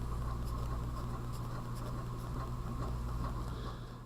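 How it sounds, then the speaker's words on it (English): A pen scratches out math set notation on paper in a steady run of soft strokes, close and quiet over a constant low hum. "I'm going to write the same thing."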